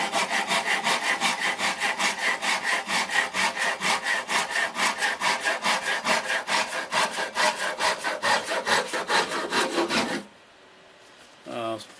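Round wooden stock is cut with a handsaw in fast, even back-and-forth strokes for about ten seconds, close and loud, then the sawing stops and only a quiet room is left.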